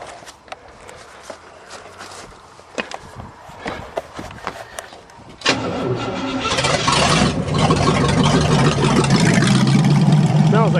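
An old loader with a big-block engine, cold and idle since 2001, cranks with sharp clicks and clatter, then catches at about five seconds and runs on in a loud, steady, rough roar.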